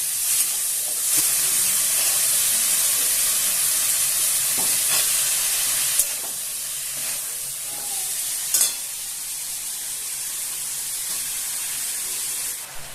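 Taro greens go into a hot frying pan with prawns, unleashing a loud steady hiss and sizzle, with a few stirring knocks and scrapes as the greens settle into the oil.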